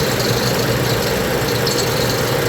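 A car engine runs at a steady, loud idle close by during a power steering bleed, a dense continuous rumble with no talking.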